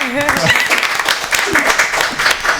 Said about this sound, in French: On applaudit ça quand même